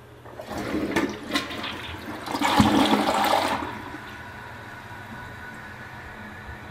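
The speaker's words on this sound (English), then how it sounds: "Now we'll try the big flush." A WaterRidge dual-flush toilet does its full flush: a loud rushing whoosh swells for a few seconds, then settles into a quieter, steady refill trickle.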